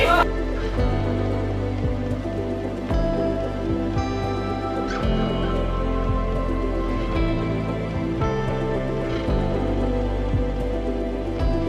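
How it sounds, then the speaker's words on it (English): Rain falls outside a McDonald's in Coffs Harbour, a steady close patter over a low, continuous hum that lasts throughout. "It's raining outside,"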